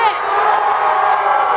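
Loud, sustained shouting from a concert crowd at a show in a ballroom venue, a dense roar of voices held steadily throughout.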